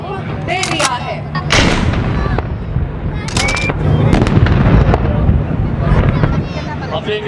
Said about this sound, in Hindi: आर्टिलरी कमांडर ने दुश्मन पर फायर करने का हुक्म दे दिया है।